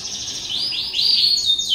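Caged birds at a bird seller's shop chirp in a run of rising, sweeping high tweets over a steady busy background hum, with no talking.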